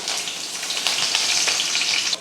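Steady, dense sizzling of curry leaves frying in hot oil with mustard seeds and urad dal, with a few louder pops and crackles, close and continuous throughout.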